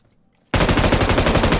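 Sudden sustained automatic gunfire in PUBG Mobile bursts in after a near-silent half second, a loud, dense, rapid stream of shots continuing to the end.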